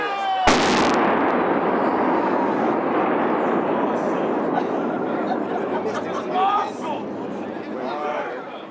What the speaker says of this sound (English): At exactly 10:15, the first section of the bridge came down with a blast